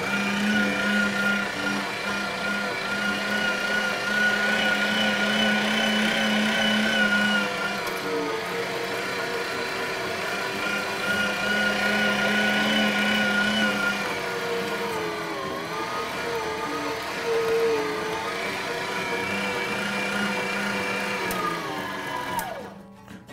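Electric meat grinder on its grind setting turning deer meat into hamburger, a loud continuous motor whine with shifting pitch as meat feeds through, running steadily throughout before winding down at the end.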